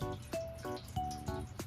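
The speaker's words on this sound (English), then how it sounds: "first we're going to add a very low level of water. So I'm going to use my gurgling fish." Water poured from a ceramic fish-shaped jug gurgles in a few quick, rhythmic glugs, each a short hollow bubbling pulse close to the listener, with no talk.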